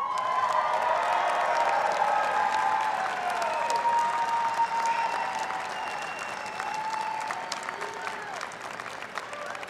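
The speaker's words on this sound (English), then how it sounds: "it's time for us to give them a round of applause" A large commencement crowd at a business school convocation gives sustained applause for graduates' families, a broad wash of clapping with scattered cheers and voices, slowly easing over several seconds.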